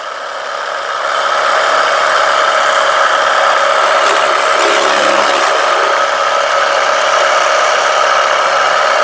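A Geepas washer gun sprays water to clean thick mud off car wheels. Its steady, loud rushing hiss and pump drone start after the first second and continue unbroken to the end, with no talking.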